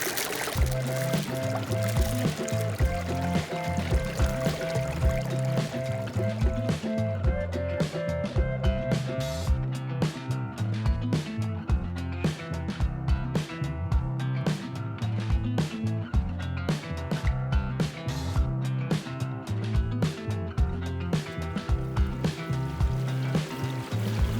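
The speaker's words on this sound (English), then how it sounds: "This lovely stream here." A mountain stream flows through Scandinavian wilderness on the Nordlandsruta hiking trail, a steady, close rush and babble of water running continuously with sharp, irregular splashes and trickles throughout.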